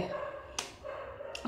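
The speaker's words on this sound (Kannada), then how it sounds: "ನಾಯಿ ಜೋರಾಗಿ ಬೊಗಳ್ತಾ ಇದೆ" Two sharp dog barks ring out about a second apart, fairly close, over a low background hum, amid New Year firecrackers in Bangalore.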